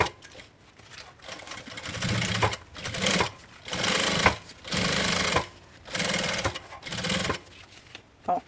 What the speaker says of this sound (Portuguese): Aí eu vou costurar aqui a toda a volta.